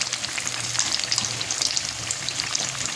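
Pakoras frying in hot oil, a dense, steady crackling sizzle with fine popping bubbles, close and continuous throughout, no voices.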